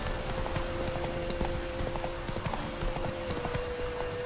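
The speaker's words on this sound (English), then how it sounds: "Whoa there, Roach" Roach the horse galloping in the game The Witcher 3, quick rhythmic clip-clop hoofbeats running steadily over a dense, constant background of game ambience.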